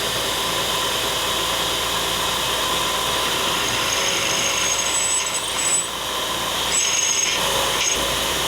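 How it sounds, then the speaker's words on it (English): Drill cutting a hole through dissimilar metals, a steady loud grinding and rasping whine with high squealing overtones creeping in toward the end, continuous throughout with no talk. "It often makes that slightly funny noise as it's going through sort of dissimilar metals."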